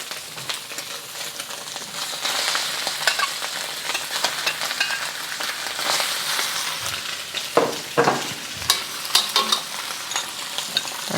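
Char kway teow noodles and seafood fry in a hot wok with a continuous bright sizzle, broken by scraping stir strokes and louder clattering bursts near the end.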